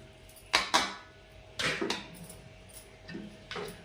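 A spoon clinks and scrapes against a bowl while coriander is mixed into gram flour batter, in three or four quiet, separate bursts with no talk.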